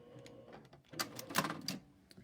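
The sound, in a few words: sewing machine stitching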